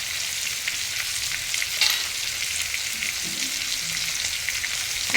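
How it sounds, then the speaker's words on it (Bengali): Large freshwater prawns frying in a pan: a steady, bright sizzle that holds level throughout, with faint stirring scrapes and no talk. "চিংড়ি মাছ ভাজতে বন্ধুরা খুব বেশি সময় লাগে না"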